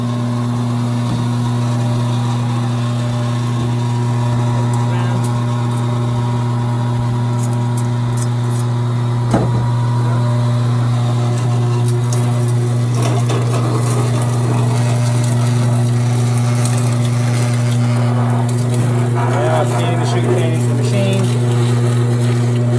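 A sugar cane juicer machine runs with a loud, steady motor drone throughout, its pitch holding constant while cane is fed in, with occasional clunks and light rattling over the top.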